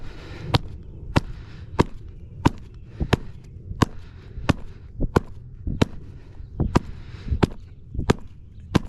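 Sharp, evenly spaced smacks as a Nike Alpha Elite Huarache leather baseball glove is struck hard to break it in, about a dozen loud close-up cracks in a steady rhythm, no talking.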